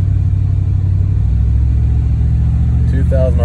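A car engine with a lifter tick and the check engine light on runs up to about 2000 RPM, a loud steady low rumble held throughout, with a brief voice near the end.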